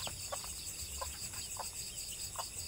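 Newly hatched pure native chicken chicks give faint, scattered high peeps, several short calls spread across a quiet background with soft insect-like hum.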